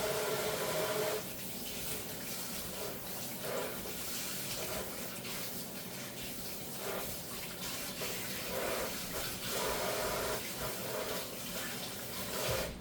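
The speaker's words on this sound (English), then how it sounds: "let me wash my hands" Hands being washed under a running kitchen tap while cooking, a steady close rush of water with slight splashing changes throughout and no talking.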